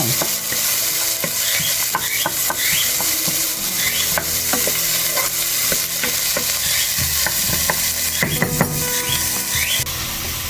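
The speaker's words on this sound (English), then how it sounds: "Onion in the pan with some salsa." Onion and salsa cook in a hot pan, giving a steady, close sizzle broken by frequent scrapes and clicks of a utensil being stirred through the mixture, continuous throughout.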